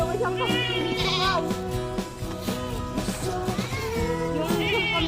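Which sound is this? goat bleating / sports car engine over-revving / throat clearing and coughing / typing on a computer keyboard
goat bleating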